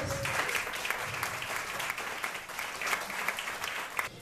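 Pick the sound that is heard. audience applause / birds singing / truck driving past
audience applause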